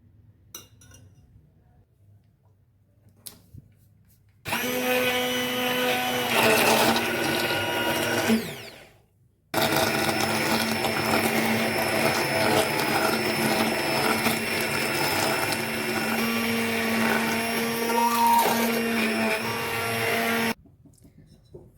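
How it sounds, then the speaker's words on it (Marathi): A hand blender whirs loudly in two long bursts separated by a brief pause, its motor hum steady with hot carrot-tomato soup churning. "हे असं ब्लेंडरनी गरम गरम आपल्याला ब्लेंड करता येतं"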